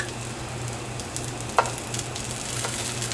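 Spam slices grilling in a pan for spam cheese burgers, a steady moderate sizzle with a few faint stirring scrapes and one sharp click near the middle.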